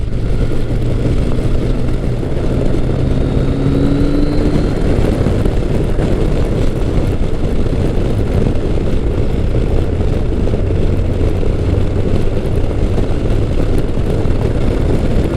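Kawasaki Concours 1000 (GTR1000) motorcycle riding through turns, a steady loud engine drone with constant wind rush that holds evenly throughout, close to the rider with no talk.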